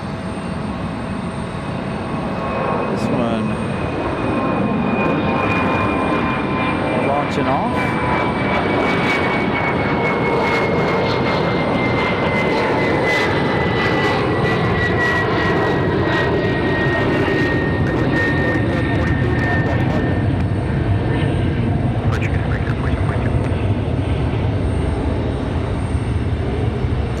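A jet airliner rolls down the runway and takes off at Raleigh-Durham airport, its engines a loud sustained roar with a whining tone that slowly falls in pitch over nearly half a minute.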